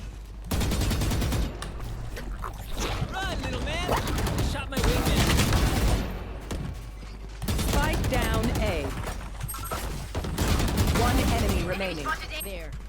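Gunfire from a dragon-themed weapon skin in Valorant: dense bursts of rapid shots in several clusters, loud and close, mixed with game effects and excited talk throughout.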